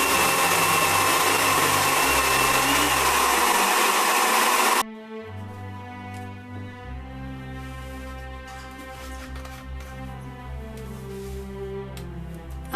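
Electric blender grinding pulao rice into powder for payesh, a loud harsh whir for several seconds that cuts off abruptly, leaving a quieter motor-like hum afterward, close by.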